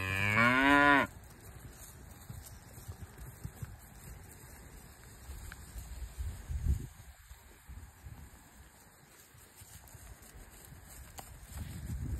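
Cattle moo on a farm where cows are kept out on grass into mid-October: one loud, close, drawn-out moo opens, then only open-air background and faint farm noise follow.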